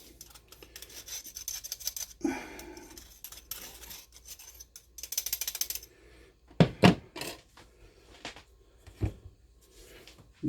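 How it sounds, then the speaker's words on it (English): Celery seed and herbs ground to a powder by hand, heard as irregular gritty scraping and rasping bursts with a few sharp clicks, close and fairly quiet, with no talking. "we're going to grind it to a powder"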